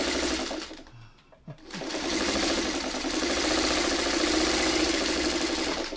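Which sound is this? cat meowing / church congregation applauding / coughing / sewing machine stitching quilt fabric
sewing machine stitching quilt fabric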